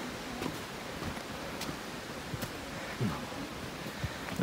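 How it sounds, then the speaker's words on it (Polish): Wind rustles through forest trees near Święty Krzyż in Poland, a faint, steady hiss of moving leaves and branches with a few soft crackles and bumps close by. "A to drzewa, szumi las."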